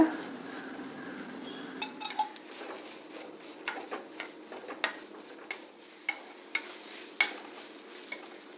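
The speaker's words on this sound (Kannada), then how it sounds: "ಬೆಳ್ಳುಳ್ಳಿನೂ ಇಷ್ಟ ಹಾಕ್ಬಿಟ್ಟು ಹುರ್ಕೊಳ್ತೀನಿ ಎಣ್ಣೆ ಇದ್ದೀನಿ ಸ್ವಲ್ಪ" Onion and garlic frying in a little oil in a hot pan, with a gentle sizzle under repeated scraping and clinking of a spoon stirring against the metal, close and without talk.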